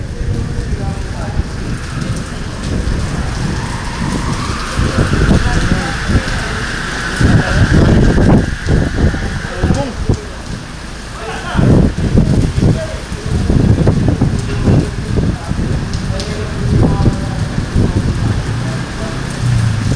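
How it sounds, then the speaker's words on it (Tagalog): Heavy typhoon rain pours steadily with strong gusting wind roaring over it, loud and continuous, with faint voices underneath, in the Philippines. "Lakas ang bagyo."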